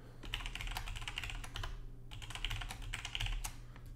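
Someone types a username on a computer keyboard, quick clusters of crisp key clicks at close range with a short pause midway and no talking.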